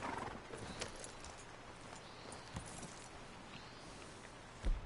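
Horse hooves from Red Dead Redemption II, a faint soft clip-clop with a light whinny amid quiet game ambience, ending in one louder thump.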